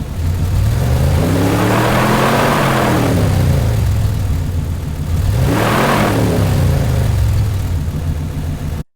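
A car engine revs up twice while stationary, each pull a smooth, nearly linear climb in pitch that peaks and falls back, loud and close with no voices over it.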